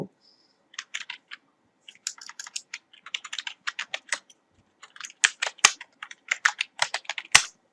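A computer keyboard is typed on in quick, crisp bursts of clicks, close and clear against near silence, with brief gaps between words and a couple of louder key strikes near the end; no one talks.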